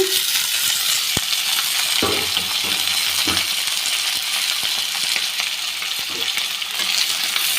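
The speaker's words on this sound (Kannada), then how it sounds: "ಆಯಿಲಲ್ಲಿ ಸ್ವಲ್ಪ ಈರುಳ್ಳಿ ಫ್ರೈ ಆದಮೇಲೆ ಇವಾಗ ಕಟ್ಬಿಟ್ಟಿರುವಂಥ ತೊಂಡೆಕಾಯಿನೆಲ್ಲ ಹಾಕ್ಕೊಳ್ಳೋಣ" Chopped ivy gourd tumbles into hot oil with fried onions, a loud, steady sizzle filling the whole stretch, punctuated by a few sharp metallic clinks and scrapes as the vegetables are tipped in and moved around.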